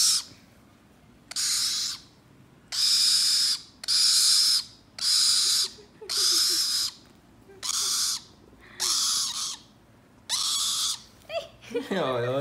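A pet bird gives a series of about nine loud, evenly spaced calls, each lasting under a second, while a child plays with it nearby; a few low voices and rustling sit underneath.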